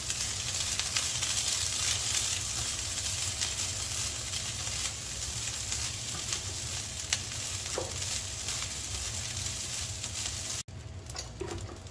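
Egg fried rice is stirred and fried in a pan, a steady close sizzle with continuous scraping and stirring that runs unbroken throughout.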